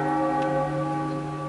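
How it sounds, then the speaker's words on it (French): A church bell rings in The Legend of Zelda: The Wind Waker HD, one sustained tolling note with a rich hum of overtones that fills the whole moment, loud and steady, with no talk over it. "Fais sonner la cloche."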